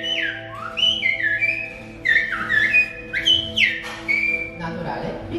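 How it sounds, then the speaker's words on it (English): Silbo Gomero, the whistled language of La Gomera in the Canary Islands, performed as a demonstration: a run of sharp, gliding whistles rising and falling in separate phrases, loud and close, over a steady low hum. "Now we are all ready for a demonstration of Silbo Gomero, the whistled language of the island."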